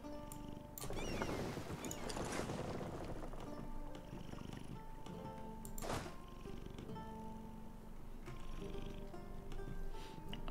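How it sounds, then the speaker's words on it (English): A pet cat makes a close, low purring rumble broken by a few soft thumps and brief squeaky vocal sounds, fairly quiet throughout. "Sorry if you can hear my cat."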